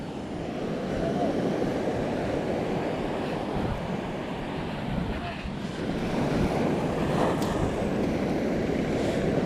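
Sea waves sloshing and washing steadily around a small boat on shallow water, with a constant roar of wind buffeting the microphone throughout and voices faintly present.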